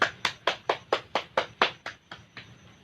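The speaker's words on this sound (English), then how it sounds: "Please give them a round of applause." A class claps in a rhythmic, evenly spaced sequence of about ten sharp claps that fade toward the end, close and distinct with no talk.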